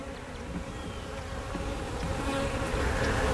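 Close, continuous buzzing of many honeybees, including drones, on a hive frame, a dense droning hum that grows a little louder toward the end.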